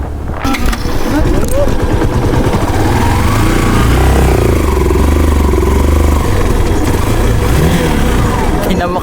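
A motorcycle engine labouring as it fails to make it up a hill, loud close rumbling and clattering throughout with people speaking over it.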